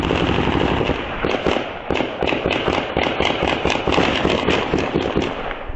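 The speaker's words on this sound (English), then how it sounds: "Like a machine gun sounded like, just rapid fire." Rapid gunfire like a machine gun in a quiet residential neighborhood: a dense, continuous stream of sharp bangs and cracks running for several seconds, loud and harsh with no pauses or voices.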